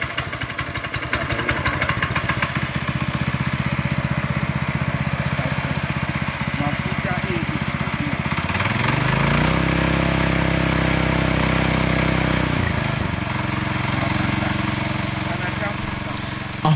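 A brand new farm tractor's engine runs steadily, a loud clattering mid-pitched drone that shifts and revs partway through, with a voice talking over it.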